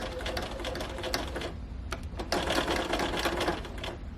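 A sewing machine stitches a pleated Turkish-corner cushion, running in quick rattling bursts with a brief pause midway, close and clear with no speech.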